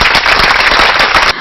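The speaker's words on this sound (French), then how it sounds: "je vous demande d'applaudir le président de la République" A crowd at a formal ceremony gives the president a dense, loud burst of applause, with many hands clapping close together, then stopping abruptly.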